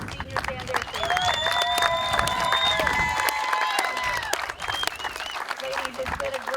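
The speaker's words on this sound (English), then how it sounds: "Another round of applause for this wonderful group of seniors and their families." Crowd applause and cheering for seniors and their families at a varsity softball senior night, a loud continuous wash of clapping with a sustained melodic tone and voices running underneath throughout.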